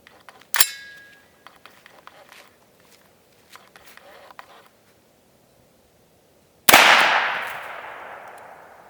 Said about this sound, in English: It's got a CMMG 300 Blackout Wasp barrel on it. And I believe this gun shoots a little bit low at this distance, so it may take a couple shots